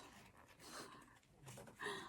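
Soft, faint breathing from a dog, slow airy inhales and exhales rising and falling like gentle snoring, close by and otherwise quiet.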